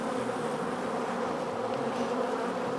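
Honeybees buzzing during an aggressive three-way hive split, a dense, continuous drone from many bees swarming close by, steady and unbroken with no voices.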